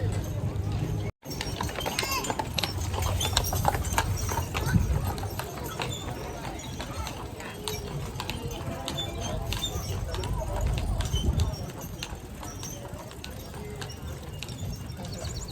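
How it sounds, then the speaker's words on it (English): Rhythmic hoof clip-clops from a horse on Mackinac Island, Michigan, steady and fairly close, with outdoor background noise and brief speech. "Going around a horse."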